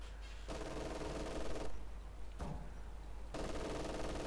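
Heavy machine gun fire in the strategy game Company of Heroes 2, sounding as dense, sustained bursts of battle noise that start and stop in long blocks with brief gaps between them, loud and continuous throughout.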